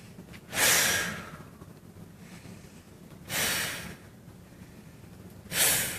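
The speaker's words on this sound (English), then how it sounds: "First you breathe in, then you breathe out fast, then you slow down just like a waterfall." Three rounds of waterfall breathing, each a quick inhale followed by a fast, forceful exhale that tapers off and slows, evenly spaced and close up with no talking.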